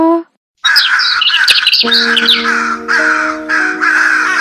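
Several crows in a Telugu cartoon moral story about a sparrow, cawing loudly and close in repeated harsh bursts, overlapping at first and then in a rough rhythm of separate calls.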